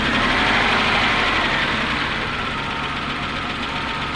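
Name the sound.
car engine idling, M20 inline-six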